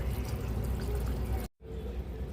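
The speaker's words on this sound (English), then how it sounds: "I like to pour it right on top of the under gravel filter so it doesn't blow into the sand." Pre-warmed water is poured into a clownfish aquarium onto an under-gravel filter, making a steady, close splashing gush that stops abruptly, then resumes at a lower level.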